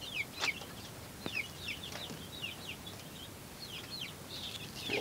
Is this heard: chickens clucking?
yes